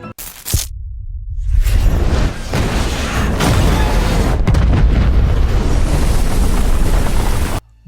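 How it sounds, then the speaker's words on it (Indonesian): A bomb detonates in a film scene with a sudden heavy boom, then a sustained loud roar of blast and debris that fills several seconds before cutting off abruptly. "bom itu meledak."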